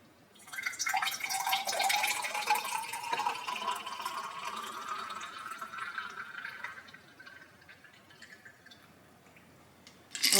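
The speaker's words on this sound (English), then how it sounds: "Let me go ahead and pour it up in the other one too." Homemade alcohol-free champagne pouring into a glass, a long fizzy splashing stream that rises in pitch as the glass fills, then tapers off with soft bubbling and a brief louder sound at the end.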